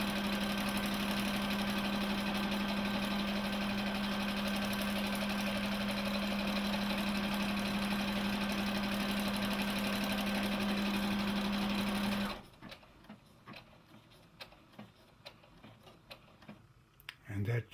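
A Brother LB6800 combination sewing and embroidery machine runs a lock stitch for a large button, a steady close mechanical whir with a constant hum that stops abruptly, leaving quiet handling noises.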